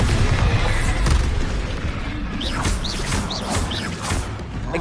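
Bombarda spell explosion in Hogwarts Legacy, a heavy booming blast that rolls on with rumble and debris, followed by a few short whooshing magic effects amid ongoing battle noise.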